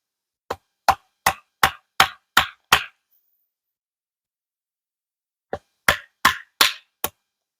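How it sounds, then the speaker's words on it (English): Sharp hammer blows drive a knife tip through wood in two bursts, six quick, evenly spaced hits, a pause of a few seconds, then five more, loud and close, splitting the wood. "We're gonna hammer down right through here."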